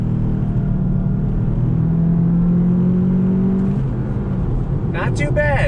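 A 2019 VW Jetta GLI Autobahn accelerates from inside the cabin, a steady engine drone rising in pitch over several seconds, with a person talking briefly near the end.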